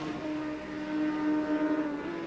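Supersport 600 racing motorcycles on the straight at Cadwell Park in 1992 produce a sustained, high-pitched engine whine, moderately distant and steady with slight pitch wavering.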